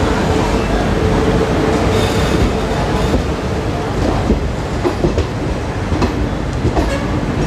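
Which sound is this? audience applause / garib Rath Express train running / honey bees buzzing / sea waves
garib Rath Express train running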